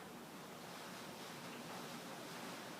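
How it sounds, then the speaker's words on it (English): Heavy storm rain pours outside in a steady, dense hiss that stays even and unbroken throughout, with no voices. "Ooh, it's pouring out. We have another storm."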